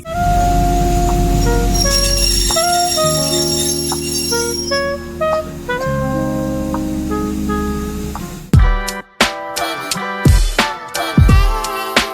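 A loud rumbling train on the line to Sai Yok Noi Waterfall in Kanchanaburi, Thailand, with a long ringing, whistling tone over a heavy low drone, ending in sharp metallic clanks and thuds of cars.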